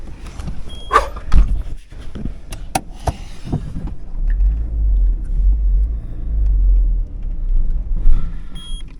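A car's engine labours in first gear trying to pull away uphill on a mountain road in Kyrgyzstan, a low heavy rumble building after a few knocks and thumps, close and steady under no talk.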